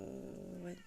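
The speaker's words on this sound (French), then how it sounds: "C'est les chats que vous entendez." Cats give a brief, close, low growling whine with a harmonic, moaning tone lasting under a second while a voice murmurs one word.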